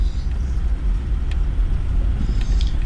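Road bias all-terrain tyres on an off-road vehicle slipping on wet rocks on a rainy track, heard as a steady loud low rumble of engine and tyre noise with faint scrabbling on top.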